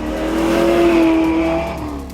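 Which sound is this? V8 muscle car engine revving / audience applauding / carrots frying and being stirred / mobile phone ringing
V8 muscle car engine revving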